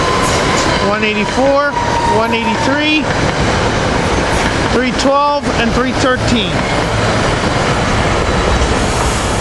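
Silverliner IV train 765 pulls in northbound at Cornwells Heights station with a loud, steady rolling rumble and sustained tonal horn-like notes, while a man nearby reads out car numbers.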